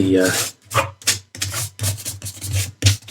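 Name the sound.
rubbing out writing in the back of a book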